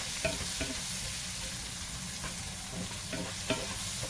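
A spoon stirs a flour roux sizzling in a pan for shrimp and crab etouffee, a steady soft frying hiss broken by a few light scraping strokes.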